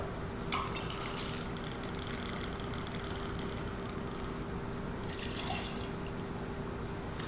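Rye whiskey pours into a glass for an Old Fashioned, a soft steady trickle of liquid with a couple of faint clinks of glassware, close and quiet, without talking.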